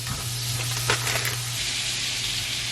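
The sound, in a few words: butter melting in a pan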